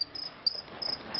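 A pair of crickets aboard a boat chirp in short, repeated bursts of high, thin trilling, close and fairly clear over a quiet background.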